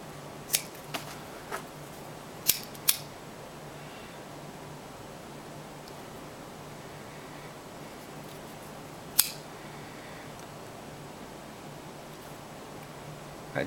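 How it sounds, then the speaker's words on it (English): Scissors snip the ends of a cobra-weave paracord bracelet in a few short, crisp clicks, five clustered early and one later, over a faint hiss of quiet room tone. "You're going to cut those and then burn them off."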